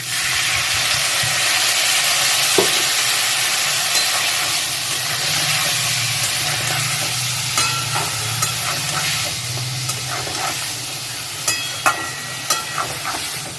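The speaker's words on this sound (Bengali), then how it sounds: "আর এক চামচ ধনে জিরে গুঁড়ো মশলাটা জল দিয়ে একটু কষিয়ে নেবো" Coriander-cumin spice masala sautéing with water for a papaya curry, a loud steady sizzle and hiss from the pan, with a few sharp ladle taps toward the end.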